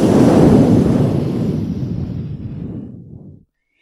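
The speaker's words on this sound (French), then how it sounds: "Alors Monsieur le Vent souffle. Il souffle encore plus fort" A strong gust of wind roars loudly as a story sound effect, a broad rushing blast that gradually weakens over a few seconds and then cuts off abruptly into silence.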